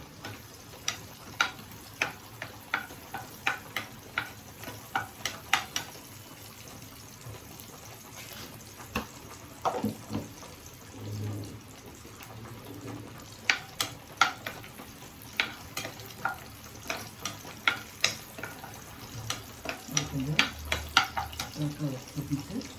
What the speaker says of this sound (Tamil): மோர் மிளகா போட்டு கொஞ்சம் வறுத்துண்டு